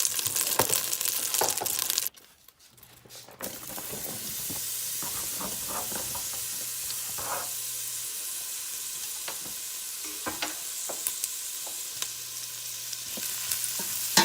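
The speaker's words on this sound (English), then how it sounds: "we're going to let those onions just start sauteing just a few minutes" Onions sauté in melted butter in a soup pot, giving a steady loud sizzle and hiss that starts after a brief drop and continues, with scattered stirring scrapes and clinks from a utensil.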